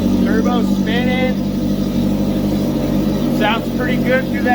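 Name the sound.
crosskart engine running with turbo and exhaust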